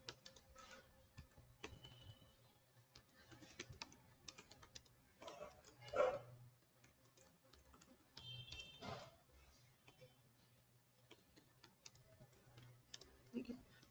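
Faint clicks of typing on a computer keyboard, arriving in short irregular bursts with brief pauses, quiet and close, with soft voice and room noise underneath.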